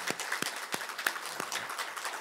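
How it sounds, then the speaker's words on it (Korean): A church congregation applauds during a Sunday service, a steady patter of many hands clapping at moderate distance, fairly quiet and continuous with no talk over it. "우리 다 같이 힘차게 박수로 인생을 격려하십시다"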